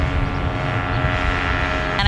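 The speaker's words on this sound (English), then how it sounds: "Parachute plane." A parachute plane passes overhead as a steady, droning propeller engine hum that holds evenly for about two seconds, with a brief sharper burst of noise at the very end.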